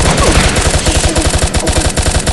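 Rapid automatic gunfire from an assault rifle in the mobile shooter game Pixel Gun 3D, a loud, fast, evenly spaced burst of shots continuing throughout.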